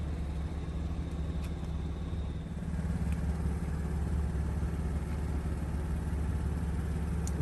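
A 2021 Audi S7 under way gives a steady, low engine hum with road rumble, continuous and moderately loud from inside the car, slightly swelling partway through, with no talking.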